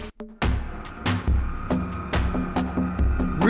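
Industrial preset of the XenoVerb reverb app by Audiority on iOS: loud, reverberant metallic clanks and thuds striking at irregular intervals over a dense, droning mechanical rumble.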